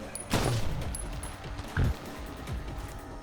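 Gunshots in the survival horror game Wicked Seed: two distinct sharp reports, with a third softer one following, spaced over a few seconds against a low background rumble and faint mechanical clicks.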